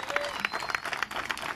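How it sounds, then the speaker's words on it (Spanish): Audience clapping at a benefit festival in Santa Catalina, a short burst of steady applause with irregular claps rising and falling, moderately loud, with some voices mixed in. "A ver si le conseguimos un aplauso para él también, para todos los amigos."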